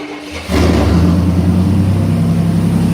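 A 1968 C10 truck engine cranks and catches half a second in, then runs with a loud, steady low rumble close by.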